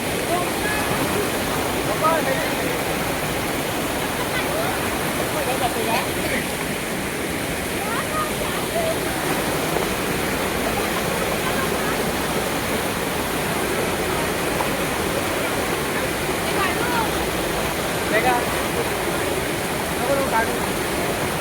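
Water pours at Madkhol dam in a loud, constant roar that never lets up, while people talk over it.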